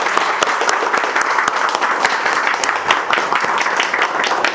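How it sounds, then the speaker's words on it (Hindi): A class of students breaks into loud, sustained applause, a dense steady wash of many hands clapping for several seconds with no talking on top. "एक बार जोरदार तालियों से साथ शुरुआत करेंगे बैच की।"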